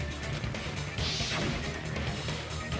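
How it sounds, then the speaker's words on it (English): A monitor is smashed to pieces in the video game Danganronpa 2, a crashing impact with a sweeping burst over loud, dense background sound. "the killer smashed the monitor to pieces"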